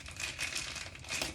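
A plastic bag holding a rolled, folded memory foam mattress crinkles softly in several quick bursts, a faint crackling rustle with no voices.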